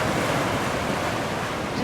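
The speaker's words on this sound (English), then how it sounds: "the Gulf is much calmer today." Calm Gulf of Mexico surf on an Anna Maria Island beach in Florida makes a steady, broad wash of small waves with some wind noise and no voices.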